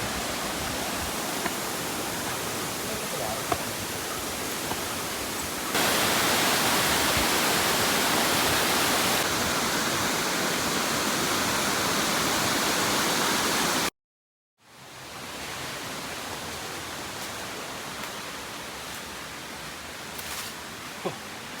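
Steady rushing water from the stream at Vengathanam Waterfalls in Kerala, loud and continuous, with a brief dropout midway before the flow resumes.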